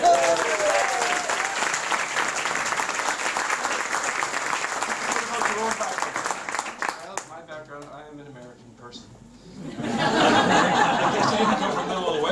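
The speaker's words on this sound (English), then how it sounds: "Give a collective round of applause." A live audience applauds a band after the players are introduced, including a double bass player and a guitarist, with loud sustained clapping and some chuckles under a spoken voice, then a quieter gap before the clapping swells again.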